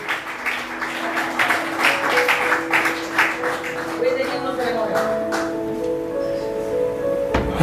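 Congregation at a church service applauding, a dense wash of clapping that swells and holds across the whole stretch, with voices and a few sustained tones mixed underneath.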